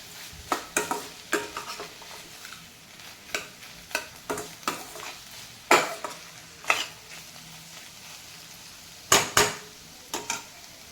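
Bitter gourd cooks in a pan while a spoon stirs it. Scattered scraping and clinking strokes come at irregular intervals over a soft, low sizzle.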